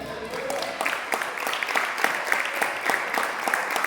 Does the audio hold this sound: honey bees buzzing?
no